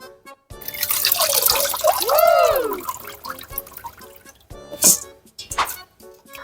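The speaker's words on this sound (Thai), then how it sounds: "แช่ข้าวมาหนึ่งคืนแล้วเดี๋ยวเราจะมา ซาวข้าวออกก่อนนะ" Glutinous rice soaked overnight being rinsed in water for bamboo-tube sticky rice, heard close up as swishing, splashing and dripping, with a rising pouring tone around the middle and a few sharp knocks near the end.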